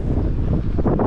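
Heavy wind buffets an open microphone outdoors, a steady low roaring rumble through the whole moment with brief gusting swells near the end.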